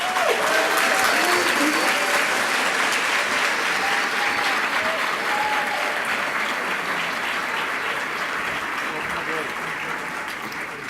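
Sustained applause from a large audience at a medical school white coat ceremony, dense and steady clapping that fills the room throughout and slowly fades slightly toward the end.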